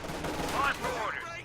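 Light machine gun fire from a rifle squad in Company of Heroes 2 rattles in rapid bursts for about a second and a half, mixed with other battle noise and faint talk.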